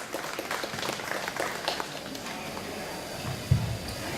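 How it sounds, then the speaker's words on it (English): Faint, steady audience applause at an ophthalmological society conference, a soft continuous patter of clapping with a low bump near the end. "Please give them a very big round of applause."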